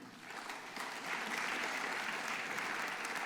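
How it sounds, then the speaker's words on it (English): Audience applause fills a university investiture ceremony hall, a dense, steady wash of many hands clapping that swells slightly after the first second and holds evenly throughout. "we will acknowledge them with our applause"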